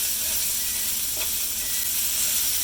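Fajita vegetables seasoned with a pinch of spices and tossed in a hot pan for chicken fajitas, giving a steady, close, loud sizzle with a brief scrape partway through.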